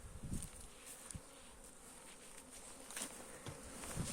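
Honeybees fly around their hive on a partial first cleansing flight in early spring, making a faint, continuous buzz with individual bees droning close past now and then.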